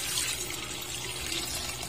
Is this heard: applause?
no